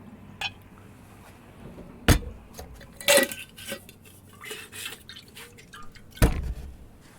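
Melted roof snow water is poured into a coffee mug, with clinks of dishware and drips sounding up close in scattered bursts against a quiet background.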